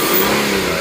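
A Kia Opirus LPG 2.7 Mu engine with 300,000 km roars steadily at high revs, a loud continuous mechanical drone filling the short moment without any voices.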